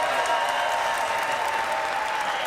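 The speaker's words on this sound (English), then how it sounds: "The applause from the First Lady, Dr. Jill Biden." Steady crowd applause in the House chamber as President Biden enters for the 2023 State of the Union address, a broad continuous wash of clapping with no pauses.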